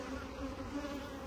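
Honey bees buzzing around an open brood frame from a hive, a dense, steady droning hum of many bees, close and continuous but fairly quiet.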